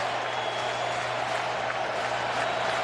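Braves fans fill a baseball stadium during an NLCS game against the Dodgers, a steady wash of crowd noise and cheering held at an even level throughout.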